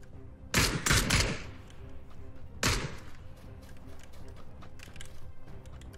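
Gunshots in the video game PUBG, a quick cluster of three loud reports followed by a single shot a moment later, then low background game noise.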